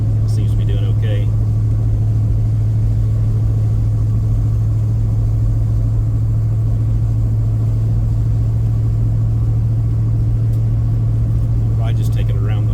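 An Avanti car on its first drive cruises around the block, a steady low engine rumble and road drone running throughout at a constant level, with a couple of faint brief clicks near the start and end.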